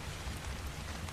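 Soft, steady rainfall patters continuously inside a hut in the video game Ark: Survival Evolved, quiet and even, with no voices.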